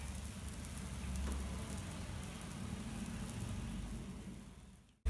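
An oats pancake browns in a pan with a faint, steady sizzle and crackle throughout, cut off by a brief thump at the very end.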